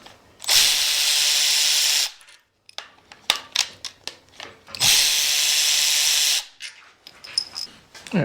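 Two long bursts of a power tool spinning out bolts from a Toyota 2JZ engine taken from a Datsun, each running about a second and a half, with clanks and taps of tools and parts between them and no talk.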